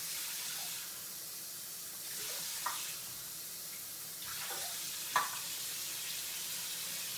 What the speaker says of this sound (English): See, it's starting to boil right now.